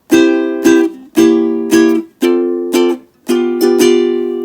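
A ukulele plays a swung strum pattern, chords ringing out fully between strokes with no muting, bright and close.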